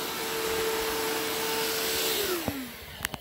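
A Hoover Fusion cordless vacuum cleaner runs with a steady whine and airflow rush, a tone that drops in pitch as the motor winds down, followed by a few sharp knocks and clicks.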